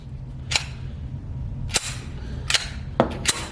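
A Rost Martin RC1M pistol is cleared of a stuck round after a double feed, giving four or five sharp metallic clacks and snaps spaced irregularly, close and crisp, with no talking.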